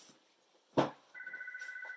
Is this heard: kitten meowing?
no